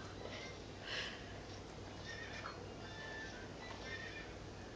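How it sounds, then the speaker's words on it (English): A horse whinnies faintly a couple of times against a steady background hum, with no one talking. "When I saw the horse neighing"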